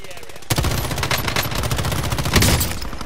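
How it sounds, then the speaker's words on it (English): Rapid automatic gunfire in Call of Duty: Warzone starts abruptly and rattles on loud and close in a dense stream of shots, with a brief swell of heavier fire toward the end. "Just keep firing."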